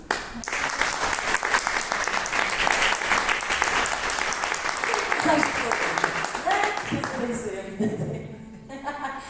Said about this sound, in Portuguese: Vamos só dar uma salva de palmas pela vida do Vitor.